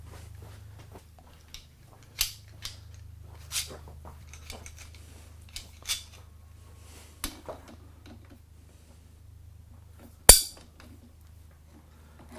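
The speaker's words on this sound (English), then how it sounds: "let me get a wrench" Metal wrench picked up and handled during a manual car gearbox demonstration, scattered light clinks and taps at a moderate distance, one sharper louder clank near the end over a steady low idle hum.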